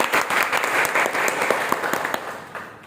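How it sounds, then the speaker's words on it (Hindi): Audience applause at a one-day AIDS awareness workshop, a lively burst of many people clapping with distinct individual claps audible, loud at first and tapering off toward the end. "चलिए 2 जोरदार तालियां हो जाए आपके लिए।"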